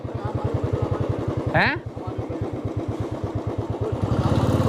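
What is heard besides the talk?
motorcycle riding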